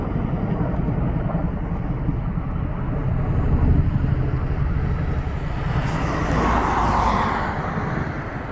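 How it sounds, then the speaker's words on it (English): A loud, low rumbling drone of a large helicopter passing overhead, steady throughout with a swell in the middle and near the end. "it's like a Chinook helicopter or something."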